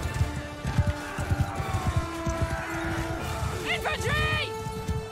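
Horse hooves clip-clop at a steady trotting rhythm in Mount and Blade Bannerlord, close and fairly loud, as a rider talks over them and a rising siren-like tone sweeps in near the end.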